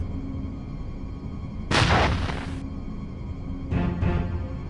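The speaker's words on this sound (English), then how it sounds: "I think I've set off an explosion in one of the rooms." A room explodes in the 1996 PC game Urban Runner, where stored solvents ignite from heat: a loud roaring blast lasting about a second, then a second, shorter burst moments later, with no voices.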